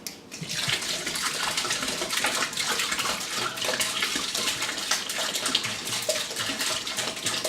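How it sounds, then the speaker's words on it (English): Cold filtered water pours steadily into a homebrew IPA fermenter to top it up, a continuous rushing splash that holds at a constant level throughout. "Now all I have to do is top it up with cold water."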